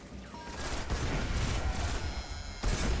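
Rapid bursts of gunfire ring out in the video game Destiny: The Taken King, dense and loud, with short pauses between volleys.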